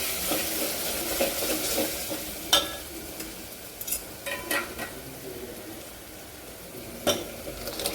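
Cooked mung dal being stirred into a sizzling tempering in a pan, a steady fry hiss under scattered scraping clinks of a spoon against metal, with a few sharper knocks.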